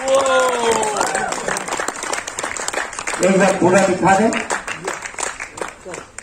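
Applause from an audience standing for an app launch inauguration, sustained clapping running throughout under loud talk and a raised voice.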